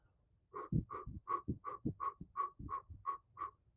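Breath blown out through rounded, ooh-shaped lips in a quiet run of about nine short, evenly spaced airy puffs with a faint hollow tone, close and soft.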